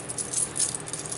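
A bunch of keys on a keychain jangles in short metallic bursts, close and moderately loud, with no voices.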